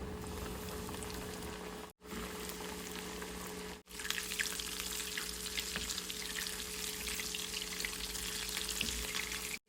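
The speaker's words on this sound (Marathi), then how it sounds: "चला याच पद्धतीने आपण उरलेले सगळे लॉलीपॉप तळून घेऊया" Cheese lollipops deep-fry in hot oil, with a loud, crackling, bubbling sizzle that runs nearly continuously, cut by two brief silent gaps early on, then turns busier and more popping.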